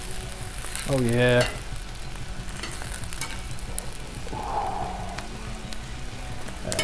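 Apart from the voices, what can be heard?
bratwursts frying on a Blackstone griddle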